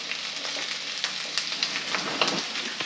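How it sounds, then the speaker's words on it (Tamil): Beans, carrot and potato sizzling in about three spoons of hot oil, a steady close crackle with small pops and occasional stirring, no talk. "முதல்ல ஒரு 3 ஸ்பூன் எண்ணெய் விட்டுக்கிறேன். வெறும் காய்ங்க மட்டும் நான் இப்போ வதக்கி எடுத்துக்கிறேன்."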